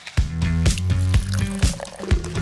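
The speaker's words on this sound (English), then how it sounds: "Watch where you're pouring, Adam!" Sugary soda poured into a cup, with bubbly gurgling and drips in a loud, close, steady stream that carries on throughout with no talk over it.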